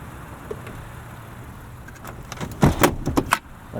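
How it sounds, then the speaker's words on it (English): A 2026 Honda Odyssey Elite power rear door runs with a quiet motor hum, then a burst of clunks and latch clicks sounds as it closes nearby. "Power rear doors."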